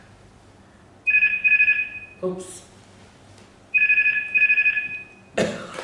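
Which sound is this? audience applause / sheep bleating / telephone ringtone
telephone ringtone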